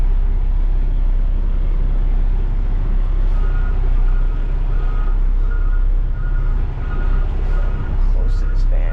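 Dumpster truck making a U-turn, a steady repeating reversing beep over a loud diesel engine rumble, close by, with a voice talking faintly underneath.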